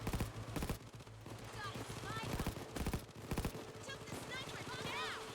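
Video-game gunfire erupts in rapid, loud bursts of sniper shots and volleys, broken by short pauses over a busy background with whistling tones, while voices talk intermittently alongside.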